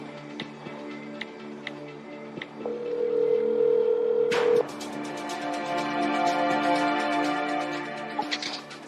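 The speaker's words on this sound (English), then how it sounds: "Let me make a phone call then, and hopefully she'll answer" A telephone ringback tone sounds steadily for about two seconds while a call is placed, over a background of ticking, layered music and ambient sound from a true-crime drama.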